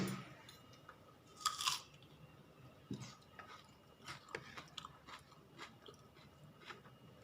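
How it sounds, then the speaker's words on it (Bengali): Crunchy bites and chewing on raw onion eaten alongside soft hilsa fish curry with rice, a loud crunch early on followed by a run of smaller, irregular close-up chewing crunches. "একটু পেঁয়াজটা কামড়াই"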